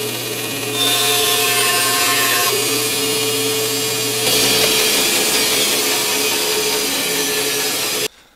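A power saw cuts through a piece of black palm wood, its steady whine loud and continuous for about eight seconds, shifting pitch slightly as the blade moves through the workpiece before stopping abruptly.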